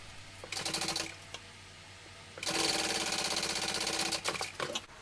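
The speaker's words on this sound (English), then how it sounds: "we're going to sew that on with the seam allowance given in the pattern" Close, rapid whirring and ticking from a sewing machine stitching a small garment pattern piece comes in a short burst, a pause, then a longer, louder run that ends in a few stuttering stops.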